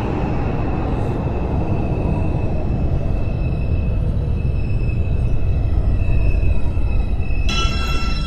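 An R142 New York City subway train on the 4 line rumbles steadily throughout in a train simulator game, with a brief high electronic tone sounding near the end.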